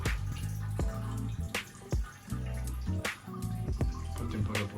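Raw spirit drips steadily from a continuous mash distillation column into a container, a run of small, close, irregular drips over a low, constant background hum.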